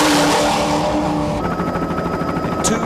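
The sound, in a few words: racing powerboat with two V12 8-litre Lamborghini engines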